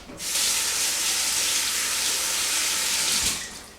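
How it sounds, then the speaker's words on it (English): Water runs steadily from a tap as hands are washed, a continuous hissing splash that starts abruptly, holds at an even close level for about three seconds, then cuts off. "Then you wash your hands."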